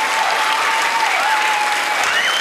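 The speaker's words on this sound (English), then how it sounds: "I think they deserve a big round of applause" Dense, steady audience applause fills a film premiere at the Lowry in Salford, loud and continuous throughout with a faint whistle-like tone running through the crowd noise.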